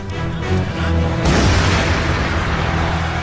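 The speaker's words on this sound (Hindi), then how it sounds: "तेज धमाका" A loud, close explosion from the Paris terror attacks near the Bataclan, where an attacker blew himself up, surges into a dense roaring burst after a rumbling lead-in and stays loud to the end.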